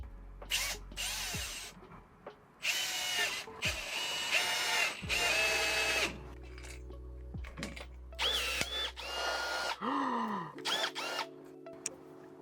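A power drill drives screws into a greenhouse panel in a series of loud, close whirring bursts that rise and fall in pitch, with short pauses and clicks between runs; no speech.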